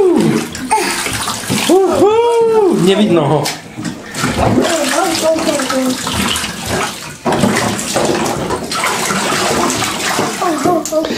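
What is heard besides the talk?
pouring water over a child's hair in the bath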